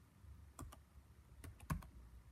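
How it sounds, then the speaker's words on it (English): Someone types on a computer keyboard in a few sparse bursts, about six clicks with uneven gaps. The key taps are soft and close, with no talking. "So I have to type everything in correctly"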